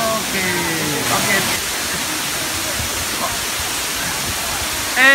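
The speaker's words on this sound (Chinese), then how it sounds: "后面的瀑布大概80-90米高了" An 80–90 metre waterfall at Pearl Valley on Mount Wuyishan roars as a constant, loud, hissing wash of falling water, with brief voices of visitors heard faintly over it.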